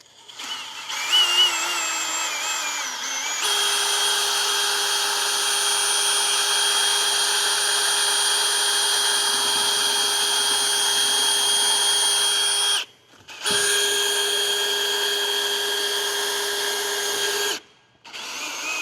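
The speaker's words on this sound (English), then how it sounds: "then we're just gonna go to town and drill most of this out" Power drill bores out the wheel bearing sensor hole on a 2007-2011 Honda CR-V, a steady high whine running for long stretches with two brief pauses, close and loud with no talking.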